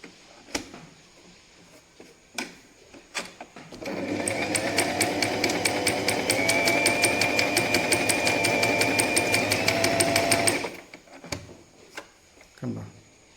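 A Singer Simple 3223 domestic sewing machine stitching fabric runs in one steady, rapid needle-clatter burst of about seven seconds, framed by scattered clicks and handling knocks before and after.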